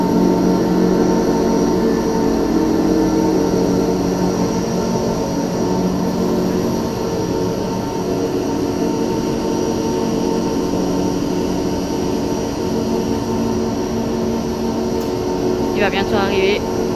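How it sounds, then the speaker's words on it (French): Funicular railway engines run in a steady, continuous mechanical drone with tonal hum, unchanging throughout, with a brief higher chirping near the end. "Les moteurs du funiculaire."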